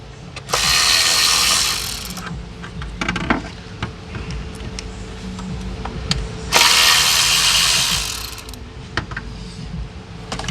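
A ratchet spins off engine cover bolts on a PT Cruiser during camshaft seal and timing belt work, giving two loud, close bursts of rapid clicking separated by quieter tool handling.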